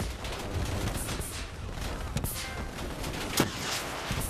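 Dense, rapid gunfire bursts from the video game Call of Duty: Black Ops 3 campaign, crackling continuously with one sharper shot standing out near the end.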